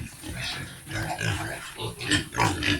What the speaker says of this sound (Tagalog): Yan, baboy. Baboy.